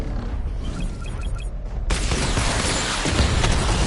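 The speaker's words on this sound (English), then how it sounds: "Charge up missile barrage to level 2 and destroy 4 active targets to complete diagnostic test." Missile barrage fire in Batman: Arkham Knight, a loud dense burst of rapid launches and blasts that erupts after a quieter stretch and rolls on continuously to the end.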